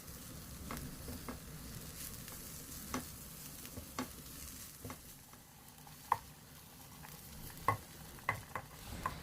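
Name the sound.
frying carrots and beetroot for borscht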